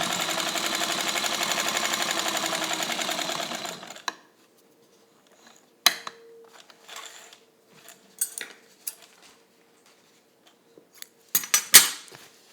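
A vintage Kenmore Rotary 117.552 sewing machine back tacking, starting with about four seconds of loud, steady rapid stitching, then stopping, followed by scattered clicks and small mechanical knocks.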